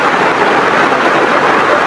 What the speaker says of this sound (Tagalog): Malakas talaga ng ulan mga tol.